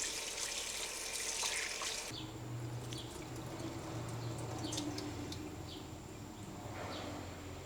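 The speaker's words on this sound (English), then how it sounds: "So I'm gonna wash my meat." Running tap water splashes steadily as raw chicken is rinsed under it, a loud gush at first that settles into a softer continuous flow.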